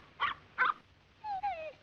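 A dog in a 1949 film, The Third Man, gives two short sharp barks and then a long rising-and-falling whimper, close and clear against a quiet background.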